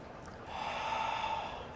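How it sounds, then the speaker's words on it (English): A slow, audible exhale through the mouth with tension in the throat gives a soft, breathy rushing sound that swells and then tapers, close and alone. "Pay attention to the tension that you're putting on your throat as you exhale through your mouth"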